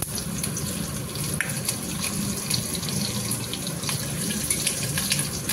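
Green chillies and cumin seeds sizzle and spit steadily in hot oil in a black iron wok, a continuous close hiss with no talking over it.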